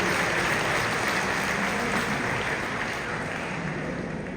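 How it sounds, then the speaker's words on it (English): Audience applause at a horse show, a steady dense wash of clapping holding at an even level throughout, with no voices standing out. "Let's give a nice applause to the horses."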